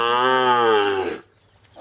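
An Indian Sahiwal heifer calf moos once, a loud, close, drawn-out call lasting about a second before breaking off into near silence.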